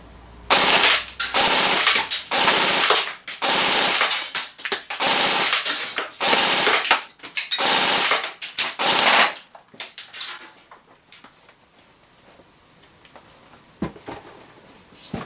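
An Arrow Dynamic Arms APC-9K airsoft SMG fires a series of rapid bursts, sharp rattling strings of shots close by with short pauses between them, then the shooting stops and only quiet handling noise remains.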